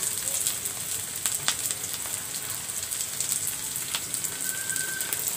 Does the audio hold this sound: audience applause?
no